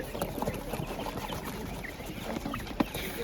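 Broiler chickens at a market give soft, scattered clucks amid faint background bustle, with one sharper call near the end.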